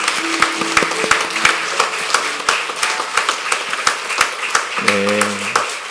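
A congregation applauds steadily for several seconds at a church elder ordination service, a dense patter of clapping, with a brief low tone sounding near the end.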